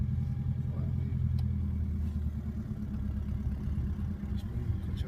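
A car's mid-range engine hums steadily as a learner driver, under an instructor in Falmouth, brings the clutch up slowly and pulls away, a low close rumble inside the cabin with faint clicks above it.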